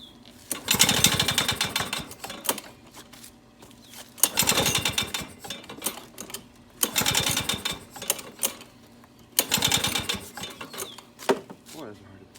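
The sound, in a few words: pull-starting old Lawn-Boy lawn mower on choke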